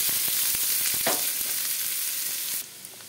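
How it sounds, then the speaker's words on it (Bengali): Chopped onions sizzle in hot oil with mustard seeds, mung dal and chana dal for South Indian suji upma. A spoon scrapes and stirs at a steady rhythm, the frying close and continuous, then it drops quieter near the end. "কেটে রাখা পেঁয়াজ দিয়ে দেবো। পেঁয়াজ দিয়ে আর একটু নাড়াচাড়া করবো।"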